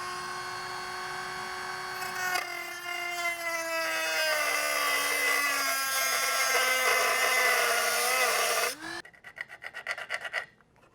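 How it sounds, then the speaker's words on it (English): A Dremel rotary tool cuts into a panel on a C5 Corvette, a close, high, grinding whine whose pitch sags under load, then stops and gives way to scattered scraping and rattling. "I'm going to try to just use a Dremel"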